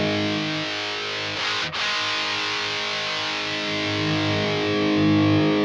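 A sustained, buzzy distorted guitar tone from an amp simulator, miked off-axis, holding steady, with a brief dip partway through before the drone continues.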